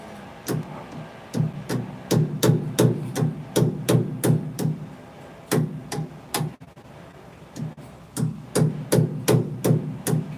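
Hammer tapping cotter pins into place, a steady series of sharp metallic strikes in quick clusters with brief pauses, close and fairly loud, with no talking.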